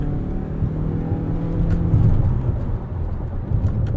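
A Ford Escape PHEV plug-in hybrid pulls away from a stop, a low steady whir and road rumble swelling slightly as it gains speed, heard from inside the cabin.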